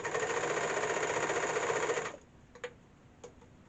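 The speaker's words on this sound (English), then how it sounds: "you can also see how quick it is on a serger" A serger running fast while sewing ski pants fabric, a loud close rapid whirring buzz for about two seconds that stops abruptly, followed by a couple of faint clicks.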